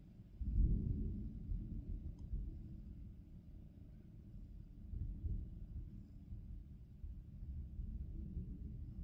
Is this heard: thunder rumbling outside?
yes